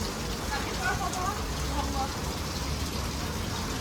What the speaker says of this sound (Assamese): ইয়াত পুৰা বৰষুণ হৈ আছে